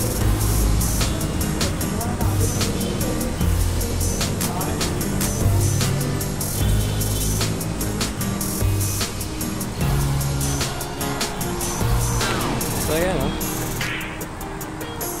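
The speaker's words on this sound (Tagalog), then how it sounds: "Ang dami sasakyan sa may kalsada." Car traffic rumbles steadily along a crowded city street in Davao City, with passing engines and occasional clatter under a person talking throughout.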